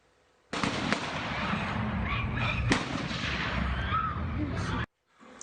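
Dozens of gunshots ring out at an outdoor vigil in news footage, a dense, continuous burst of sharp cracks lasting about four seconds, loud and crowded with overlapping reports, then abruptly cut off.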